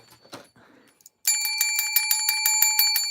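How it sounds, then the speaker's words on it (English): A small hand bell rings in a quick run of bright, repeated dings inside a yarn shop, following a moment of faint talk and near silence. "I didn't have my little bell, but I do now."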